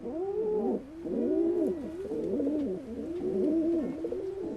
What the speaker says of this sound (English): when hearing soft cooing sounds like these, why baby pigeons would rather stay in the nest.